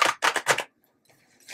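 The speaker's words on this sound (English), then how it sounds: "One more shuffle." Tarot cards are shuffled in quick riffling bursts, three close crisp flurries followed by a pause and a softer rustle of the deck.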